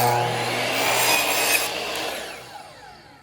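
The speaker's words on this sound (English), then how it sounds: "hold it on the saw, it's not up against anything" A steady rasping saw cut through plywood, loud and close, running continuously for about three seconds before tapering off.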